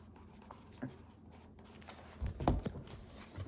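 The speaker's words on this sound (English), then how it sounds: "I could write on this, right? I could write in this." A pen scratches as someone writes on a folder late at night, making quiet, intermittent strokes with a slightly louder burst near the middle.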